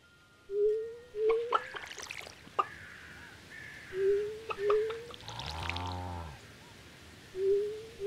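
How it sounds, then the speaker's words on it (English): Watering crops in the farming video game Stardew Valley produces repeated short rising pour-like chimes in evenly spaced pairs, with a longer splashy watery swell midway, set against quiet game background music. "we gotta water all of this."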